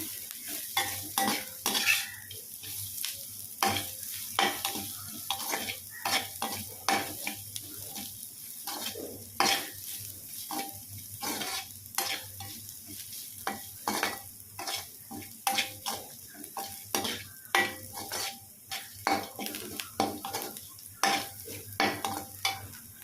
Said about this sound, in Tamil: இது கூடவே 2 புதினா இலை சேர்த்துக்கிறேன். அதுவும் சேர்த்து நல்லா வதக்கிக்கலாம்.